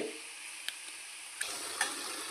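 Eggs fry in a hot pan with onions, giving an even hiss of sizzling broken by a few sharp ticks and pops, with no voices over it.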